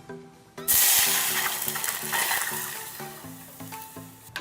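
Milk hits hot desi ghee in a heated pan with a sudden loud burst of sizzling that slowly fades into a steady, bubbling hiss.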